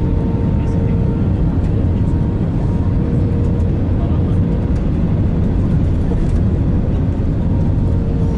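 Inside an airliner landing at Istanbul airport, a loud, steady cabin roar of engines and airflow fills the space without letup.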